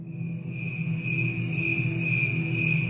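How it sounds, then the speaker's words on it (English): A cricket sings alone at night in a steady, continuous high trill that holds without pause, close and clear over a faint low background hum. "The first is the recording of the normal cricket singing into the night."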